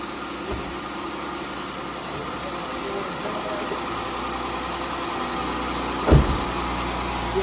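A Jeep JK engine idling, a steady low mid-pitched hum with slight vibration, one brief thump near the end.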